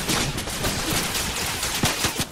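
Enemy gunfire in Fortnite crackles in a dense, continuous burst of shots, loud and close throughout with sharper cracks near the end.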